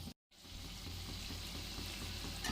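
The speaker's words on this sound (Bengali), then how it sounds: "দুদিকটা লাল করে কম আঁচে ভেজে নিতে হবে।" Pantua sweets fry in oil over low heat, making a continuous, even, close sizzle with fine crackle after a very short silent gap at the start.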